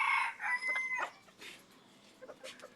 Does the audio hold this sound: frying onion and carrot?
no